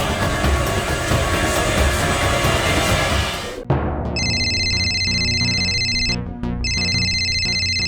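A mobile phone in a Bhojpuri TV drama rings with a repeating electronic ringtone, starting partway through after a burst of dramatic background score and pausing briefly between cycles.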